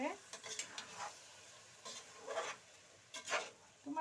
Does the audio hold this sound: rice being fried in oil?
yes